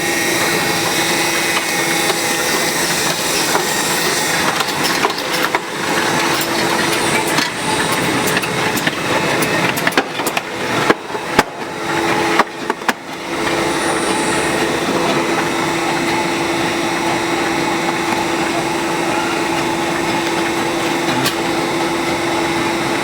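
An HTH 120 glue machine starts and runs with a loud, steady mechanical drone and whine, broken midway by a burst of knocks and clatter before it settles back into an even hum.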